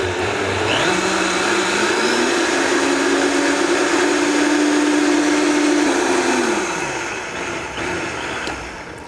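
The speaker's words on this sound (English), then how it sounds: "Now the Vitamix is a very good blender." A Vitamix blender purees cream of mushroom soup with a loud, steady motor whir. Its pitch climbs as the speed increases, holds at high speed and then winds down near the end.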